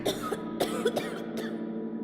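A woman coughing in a narrated folk story: several harsh, close coughs in quick succession with throaty catches between them, heard alone without talk.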